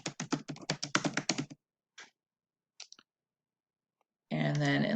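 Computer keyboard typing, a quick burst of close clicking keystrokes followed by a few scattered taps, then a voice starts speaking.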